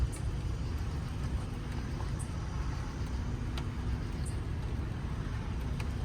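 Cars passing on a road at night during a wind and lightning storm near Springfield, Missouri, a steady low rumble of traffic with faint swishes and no talk.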